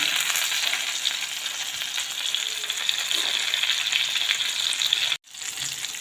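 Cauliflower pakoras deep-fry in hot oil with a dense, continuous sizzle, loud and close, with a brief drop near the end and no talking.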